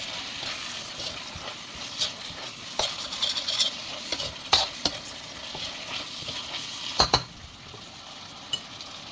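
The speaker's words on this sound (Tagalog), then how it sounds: "So, i-fry natin mga gulay ba?" Vegetables being stirred and fried in a pan for Filipino caldereta sauce, a steady soft sizzle under repeated scraping and clinking of a utensil against the pan, close by.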